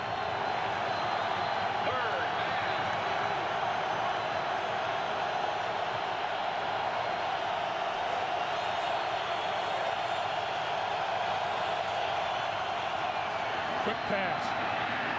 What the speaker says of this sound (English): So now the crowd comes to its feet on a 3rd and 6.